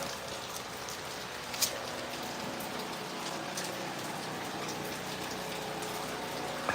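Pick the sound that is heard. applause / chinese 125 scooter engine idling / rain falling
rain falling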